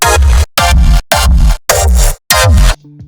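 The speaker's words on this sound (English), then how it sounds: "Here are some variations I made with this method." Five color kick drum samples play one after another, each a loud, bright, tonal burst with a deep thumping low end and sharp cutoff, followed by a brief quieter synthetic tone at the end.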